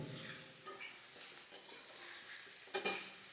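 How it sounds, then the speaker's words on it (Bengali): Sweet-and-spicy Bengali olive chutney being stirred in a pan over lowered heat, giving a soft scraping with a few sharper clinks of the spoon against the pan above a faint sizzle. "এই দেখো, আমি কিন্তু এটাকে নাড়ছি।"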